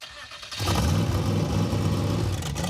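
Car engine in the Mazdarati, a Mazda fitted with a Maserati engine, roaring as the throttle is floored: a quieter idle, then a sudden loud, sustained, close rev that holds strong to the end.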